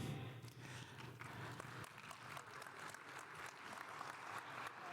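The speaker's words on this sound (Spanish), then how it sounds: "¿Sí ves lo que es un aplauso de este público?" Applause from a live audience at a Spanish-language professional development talk, a faint, distant wash of many hands clapping that holds steadily throughout without voices on top.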